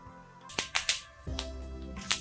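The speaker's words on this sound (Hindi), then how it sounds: "अलसी के चटकने की आवाज आप सुन सकते हैं।" Sharp, irregular pops and crackles of flaxseeds roasting in a hot pan, a handful of sudden snaps over a low sizzle, close up.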